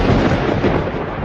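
Loud, close rolling thunder with steady heavy rain, a dense continuous rumble filling the whole moment during an unseasonal storm.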